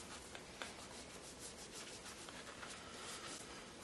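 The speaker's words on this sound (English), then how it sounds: "So I'm just gonna sit here and scrub these, 14 pairs of shoes" Dirty shoes being scrubbed clean by hand, a faint, steady rubbing and brushing texture with small irregular strokes, quiet and continuous with no voices.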